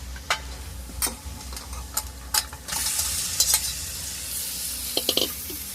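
Marinated chicken cooks in a pan with a faint steady sizzle, broken by intermittent sharp clicks and scrapes of a utensil against the vessel, close and without talk.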